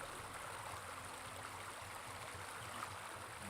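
Babbling brook in Battle Realms rushing and trickling in a constant, even wash of running water, steady and fairly quiet with no voices.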